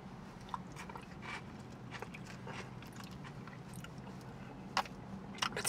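Someone bites into and chews a piece of onion from a Jersey Mike's Club Supreme sub, with faint, close crunching and soft wet mastication over several seconds and a couple of sharper crunches near the end.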